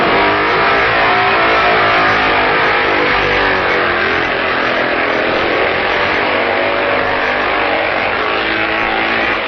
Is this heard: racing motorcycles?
yes